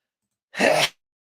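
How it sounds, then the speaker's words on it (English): A single sharp sneeze bursts out of silence, close and brief, then cuts off. "I didn't think you'd all want to hear me sneeze"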